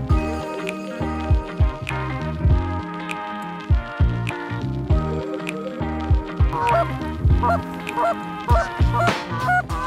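A flock of geese honks loudly and continuously during a goose hunt, many overlapping calls in an irregular, clamorous chorus that fills the whole stretch without talk.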